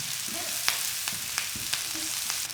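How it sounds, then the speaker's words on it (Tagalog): Onion and garlic sauté in a hot pan for a Bisaya-style humba, a steady close sizzle with a few sharp stirring clinks and scrapes spaced through it. "Igigisa ko lang to hanggang sa lumambot na yung sibuyas."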